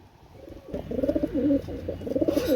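Pakistani pigeons, teddy and Rampuri breeds, coo in a steady series of soft, throaty calls close by, rising after a quiet start and continuing without pause.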